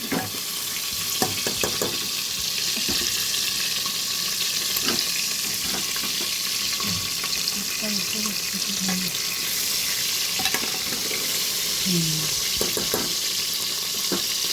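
A fish head frying in a pan, with a steady close-up sizzle of hot oil running throughout and occasional soft scrapes and clinks of a utensil turning it.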